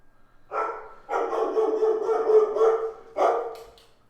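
A dog barks in a rough, sustained burst of several overlapping barks, then one more short bark after a brief gap, loud and close.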